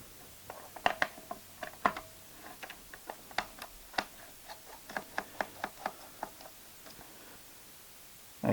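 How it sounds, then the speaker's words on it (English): A screw is unscrewed from a Vivitar 285HV flash, giving a steady series of small, close, dry ticking clicks from the turning screwdriver, with no talk. "so remove that screw."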